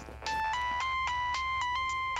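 Telephone ringtone trilling in a repeated electronic pattern of short bright pulses, close and loud, playing alone without any talk.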